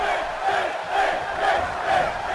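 A wrestling video game crowd cheers for Finn Balor in a steady, roaring wash of voices that rises and falls in waves.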